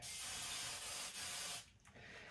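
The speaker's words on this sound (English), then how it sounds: "And then I'll hairspray it" Hairspray hisses from an aerosol can onto teased hair in a single steady burst of about one and a half seconds, close and fairly loud, then trails off into quieter rustling.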